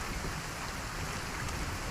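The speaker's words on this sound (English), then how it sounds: "Rain fell harder with every passing minute." Heavy rain pouring during a storm, a dense, continuous hiss of downpour filling the space evenly at a steady loudness.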